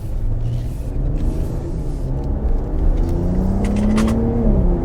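A 2025 Ram RHO pickup truck in sport mode cruising on a paved road, its engine rumbling steadily with rising tone as it accelerates through quick gear changes, heard from inside the cab.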